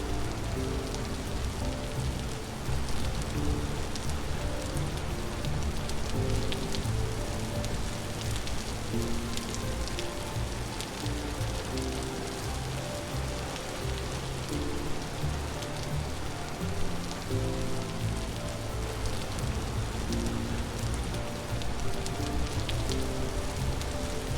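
Steady rain pours down in the survival crafting game Vintage Story, a dense, even hiss of drops on surfaces that holds unbroken throughout with no voices.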